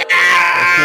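A voice imitates the Howie scream in one loud, sustained, strained shriek lasting under a second, close to the microphone.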